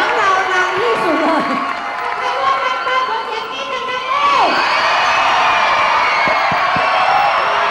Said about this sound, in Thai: ขอเสียงกรี๊ดดังๆเลย